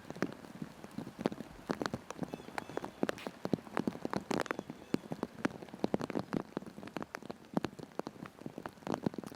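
Rain falling on a disc golf course during a tournament round, with dense, irregular drops pattering and ticking on nearby surfaces, faint overall but steady throughout and no talk.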